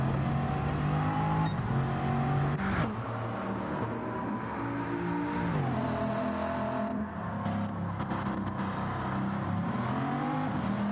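A race car engine hums steadily at moderate revs during a championship race, pitch rising and dipping gently as it runs on light throttle, close and continuous.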